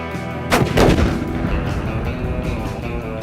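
Loud gunfire from a firearm, two heavy blasts close together near the start followed by a long rumbling echo and ringing decay, no talk.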